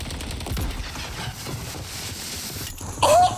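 Rapid automatic fire from an SCG rifle in the Warzone video game, a dense continuous burst of shots heard close and loud throughout, swelling briefly louder at the end.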